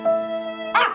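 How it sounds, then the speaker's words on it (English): Zombie dogs from Super Castlevania IV give a short, loud bark at the end of a sustained tonal game-music note, a single bark heard alone. "Zombie dogs."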